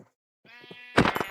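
Minecraft sheep bleating in a video game, a short wavering bleat followed by a louder, harsher second bleat, close and clear with no talk.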